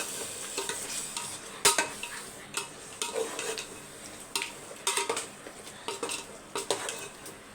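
Chicken 65 pieces being mixed into their lemon marinade coating in a pan, with clattering scrapes and sharp utensil knocks against metal over a low sizzle, coming in uneven bursts.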